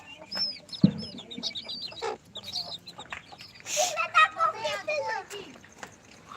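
Farm hens cluck and croon in short bursts close by in the evening, mixed with bird chirps, while people talk over them.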